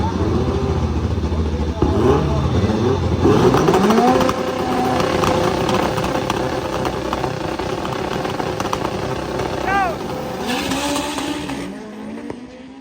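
An all-wheel drive drag racing car launches and accelerates hard at a drag strip, a loud roaring engine with rising revs and gear-change sweeps over steady crowd and track noise, with an announcer talking over it.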